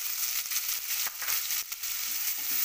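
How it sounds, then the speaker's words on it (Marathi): Finely chopped onion tipped into a pan with garlic and chillies, giving a soft, steady sizzle of frying throughout with a few light stirring scrapes, fairly quiet and with no talk. "आता कांदा जो बारीक चिरला आहे तो टाकून घेऊया."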